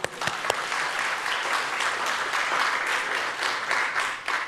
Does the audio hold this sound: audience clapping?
yes